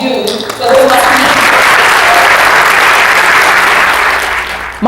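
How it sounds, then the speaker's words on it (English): Loud, full audience applause fills a keynote presentation hall, swelling quickly after a brief opening and holding as a dense, sustained roar of clapping before tapering at the end. "So give yourself a round of applause for all that you do for those listening."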